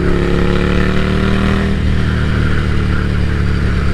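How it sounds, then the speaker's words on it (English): A loud café racer motorcycle with a Vance & Hines high-output exhaust roars at high revs, its throaty exhaust note dropping and settling into a rough, steady rumble. "I have a Vance & Hines high output on this one, and man, I love the sound"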